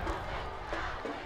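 High school football stadium crowd roaring in a dense, continuous wash of cheering voices, loud and broad, with no single voice standing out.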